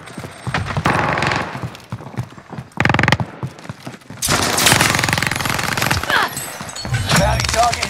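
Gunfire in Call of Duty Warzone during a quads match: loud bursts of automatic fire and shots in several clusters, with mechanical clatter between them and heavy sustained firing in the second half.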